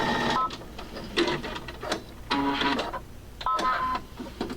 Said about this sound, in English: go ahead and start stitching, and it starts right on that line